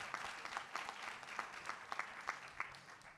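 Fairly quiet applause from a conference audience for a minister, uneven clapping with scattered sharper claps standing out over a soft crowd wash.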